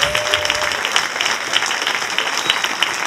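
Steady applause from a crowd at a school Nativity play, dense clapping filling the whole stretch without a break.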